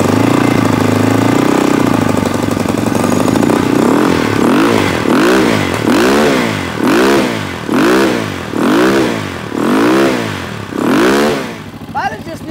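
A dirt bike engine, freshly running after a carburetor cleaning, idles roughly and then is blipped in a steady series of short revs, loud and close, with a metallic clatter.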